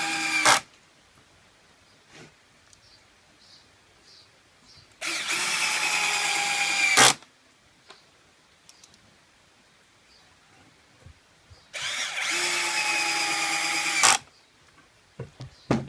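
A Black+Decker 20V MAX cordless drill whirs in two bursts of about two seconds each, a high steady motor whine with a sharp start and stop, separated by quiet pauses with faint handling clicks.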